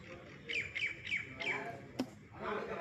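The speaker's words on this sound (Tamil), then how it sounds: "மேலே குருவி கத்துது." A sparrow calls from overhead in four quick, chirpy squawks followed by one sharper note, moderately close against faint household background noise.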